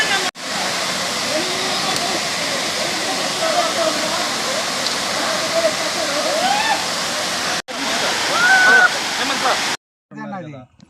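The waterfall at Dhonabanda near Vijayawada pours in a loud, constant rush. The sound cuts out briefly a couple of times and then stops near the end.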